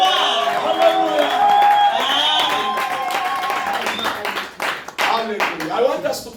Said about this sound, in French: Est-ce que tu peux donner des acclamations pour le roi des rois?